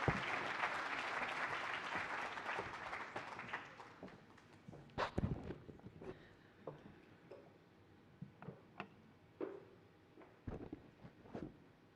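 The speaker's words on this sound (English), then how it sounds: "Please, let's give a round of applause for Dr. Geraldine Fraser-Moleketi." Faint applause from a lecture audience fades out over the first few seconds, leaving a quiet hall with scattered knocks and footsteps.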